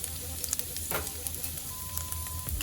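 Two chopped garlic cloves sizzling in about two tablespoons of olive oil, a steady, fairly quiet crackling hiss with scattered pops and soft stirring ticks, no voices.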